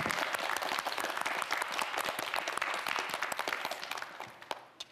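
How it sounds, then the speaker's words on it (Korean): Students on a TV quiz show break into a big round of applause, dense rapid clapping that holds steady before tapering off near the end. "우리 학생들 이쯤에서 다 함께 파이팅하자고 큰 박수 한번 치고 가도록"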